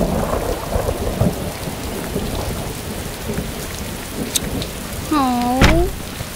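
Steady rain falls in a cartoon jungle, a dense even patter with a low thunder rumble beneath, and a brief sliding whistle-like tone near the end.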